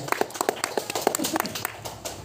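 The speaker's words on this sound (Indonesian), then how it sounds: "Tepuk tangan teman-teman" A stand-up comedy open mic audience in Bulukumba claps in a scattered burst of individual hand claps. The applause is close and uneven and fades out within a couple of seconds.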